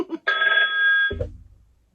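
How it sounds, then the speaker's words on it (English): A single short ring of a telephone bell, bright and close, cutting off abruptly into a low thud, with a brief voice sound just before. "that phone never rings ever."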